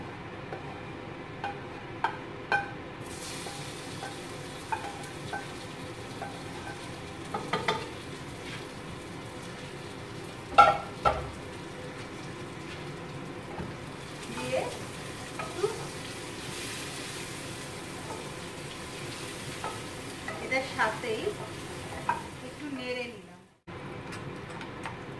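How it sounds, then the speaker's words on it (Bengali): Mutton curry with fried onions being stirred in a pan for a Bengali mangshor jhol, giving a steady low sizzle with scattered scraping and clinking taps throughout, and a brief dip near the end. "এই নাড়িয়ে নিলাম।"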